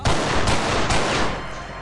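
Loud, dense gunfire from mighty powerful weapons in the video game XIII roars in a continuous close burst of overlapping shots, then tails off slightly at the end.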